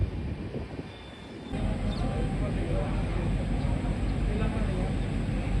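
The GT Express train overtakes on the adjacent track near Palwal railway station in India, its loud close rumble and wheel clatter starting abruptly and continuing steadily.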